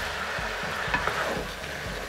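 Noodles being stirred in a hot pan just after sesame oil goes in, with a steady sizzle and soft repeated scraping strokes, close and alone without talk.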